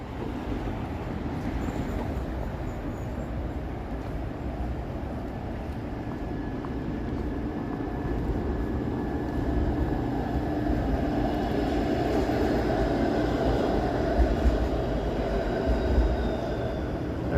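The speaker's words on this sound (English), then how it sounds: "there's a nice streetcar shot for you" A Toronto streetcar passes on an evening street, its low rumbling rail noise building slowly and growing louder toward the end, with a faint high whine and no one speaking.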